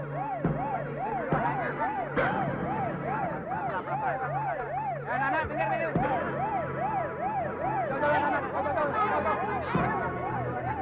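A wailing ambulance siren rises and falls steadily and continuously, close and loud, with voices and crowd chatter mixed in underneath as someone is lifted into the ambulance.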